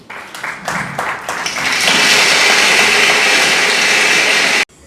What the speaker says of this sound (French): Applaudissez pour l'artiste,